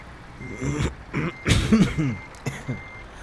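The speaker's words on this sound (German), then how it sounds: "Oh, ich gerade mal schnell einen Hustenanfall bekommen da." A person has a coughing fit while playing Euro Truck Simulator 2, with several harsh, close coughs and throat clearing in irregular bursts over a faint truck reversing beep and engine hum.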